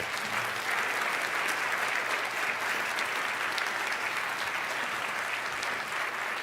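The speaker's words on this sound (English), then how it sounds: "I just want to ask you one more time to applaud for what we're about to do" An audience at a live debate claps continuously and evenly, a dense, full wash of applause holding at a steady level throughout with no speech over it.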